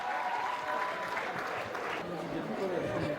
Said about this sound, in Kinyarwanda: amashyi cyane twakire